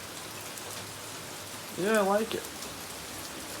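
Steady rain falls outside, a soft continuous hiss of drops on surfaces throughout, briefly overlaid by a short spoken phrase from a nearby voice.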